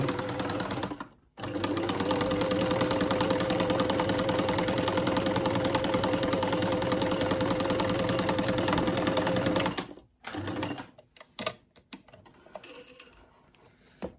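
A Janome 574 sewing machine stitches fabric under its presser foot with a steady, close mechanical whir. The whir runs for about nine seconds after a brief start, then stops and leaves a few scattered clicks and handling noises.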